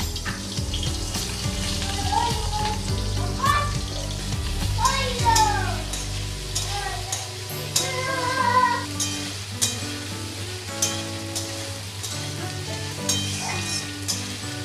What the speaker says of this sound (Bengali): আমি মাছ ভাজা তেলের মধ্যে আলু পটলটা ভেজে নেব একসাথে।